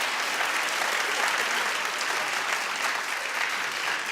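A studio audience on a daytime talk show breaks into steady, dense applause that stays loud and even throughout, with no talk over it.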